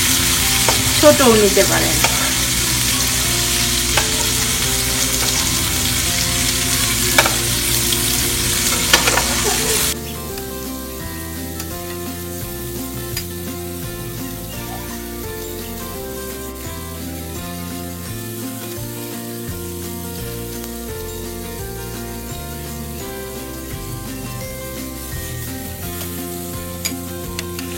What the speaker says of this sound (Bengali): পাঁচ মিনিট আমি চিংড়িটা ভাজলাম, মিশিয়ে নিচ্ছি।